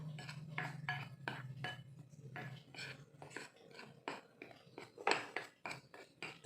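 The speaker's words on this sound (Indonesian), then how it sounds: "kita aduk kembali sampai tercampur rata ya" A utensil stirs batter with garlic powder in a bowl, producing a rapid series of close, sharp clinks and scrapes against the bowl in an uneven rhythm, with a low hum early on.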